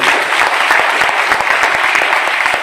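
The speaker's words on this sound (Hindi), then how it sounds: "एक बार कलाम साहब के लिए जोरदार तालियां होगी।" An audience at a network marketing seminar breaks into loud, vigorous applause, a thick, close wash of many hands clapping at once.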